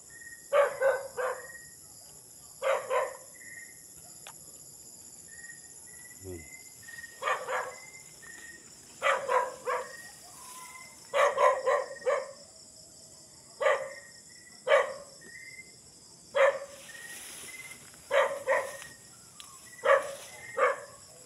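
A dog barks repeatedly outdoors near abandoned nipa huts, in clusters of sharp, moderately distant barks spaced a few seconds apart over a steady high insect drone.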